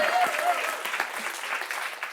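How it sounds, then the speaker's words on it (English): Comedy club audience applauding steadily for about two seconds, a dense wash of clapping with a few brief whoops near the start. "Let's give this young man a round of applause, everyone."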